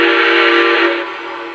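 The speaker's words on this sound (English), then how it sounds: "The whistle confirms that the locomotive took the program." A Lionel Legacy Southern Crescent 4-6-2 Pacific model steam locomotive sounds its whistle, a loud, steady multi-tone chord held for about a second before dropping off, close and alone.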